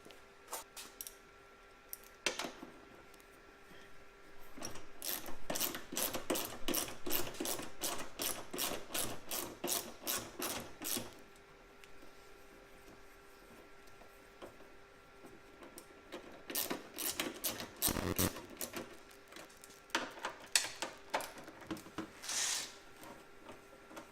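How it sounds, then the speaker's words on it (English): Bolts are backed out of the air snorkel on a Subaru WRX with a ratchet, giving bursts of quick, close metallic clicking that run several seconds at a time, separated by quiet pauses, with no voices. "we just have 2 bolts directly right here that we'll just go ahead and remove"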